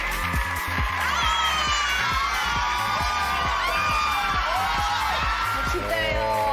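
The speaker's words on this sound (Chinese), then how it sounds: "最大声的掌声加尖叫，让我们欢迎第一组绯红魅影" Audience at a girl-group talent show stage performance screams and cheers loudly for performers, high-pitched shrieks and whoops layered over a pounding rhythmic beat throughout.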